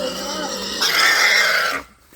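Pig squealing as it is being caught on a farm, a loud harsh close squeal that intensifies midway and cuts off abruptly.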